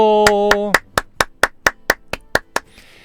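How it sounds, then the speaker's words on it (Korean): A single person claps about ten sharp, evenly spaced times, close and loud, right after a voice speaks. "박수 한번 주세요"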